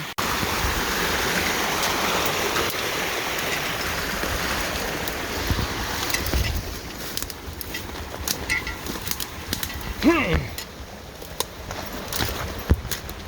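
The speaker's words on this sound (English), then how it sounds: "Ooh, there's some waterfalls down here." Water pours steadily over small waterfalls in a forest creek, a continuous close rushing wash with a few louder splashes and faint footsteps over it.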